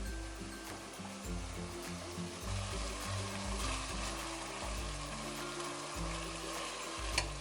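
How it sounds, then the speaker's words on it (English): Soy sauce hitting ground beef in a hot pan for an Asian-style cabbage and beef dish, producing a steady, close sizzle and crackle with occasional stirring scrapes and no voices. "So my ground beef is now cooked, and I'm gonna add some soy sauce to it."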